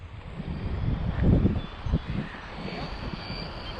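A Losi RC dirt bike motor in wheelie mode gives a steady whirring drone with a louder surge near the middle, close by and unaccompanied by talk.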